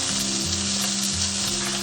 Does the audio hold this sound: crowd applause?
no